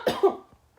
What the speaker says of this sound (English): I'm sorry, I had to cough